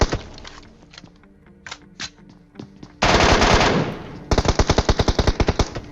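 MK14 rifle fire in a mobile battle-royale shooter game: scattered shots at first, then a dense burst of rapid automatic fire, a brief gap, and another rapid volley, all loud and close.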